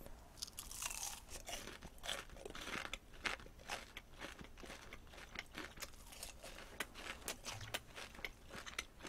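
Crispy Korean plain fried chicken with a coarse, sandy, grainy batter is bitten and chewed up close, giving a steady run of loud crunches and crackles over several seconds with no talking.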